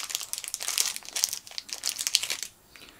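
Cellophane wrapper around a short Robusto cigar crinkling up close, a run of crisp, irregular rustles that fade near the end.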